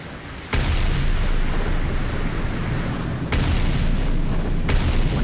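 Rocket turret explosions in the game Artificial Extinction 2 boom loudly over a dense, rumbling wash of battle noise, with three sharp blasts standing out at irregular intervals.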